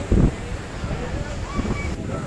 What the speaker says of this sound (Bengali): আমরা সমুদ্রে এসে গেছি, দারুণ হাওয়া